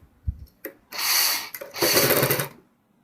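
A sewing machine stitches a designer kurti in two close, brisk bursts of motor whir of about a second each, preceded by a few small handling clicks and ending in silence.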